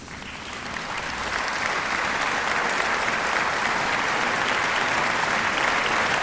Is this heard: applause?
yes